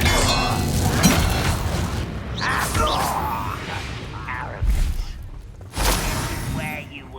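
Expelliarmus and Flipendo spells cast during combat in Hogwarts Legacy, heard as loud magical whooshes, booms and thuds with crashing bursts layered among game voices and shouts, including a couple of heavy impacts near the end.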